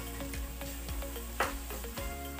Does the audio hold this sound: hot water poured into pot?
no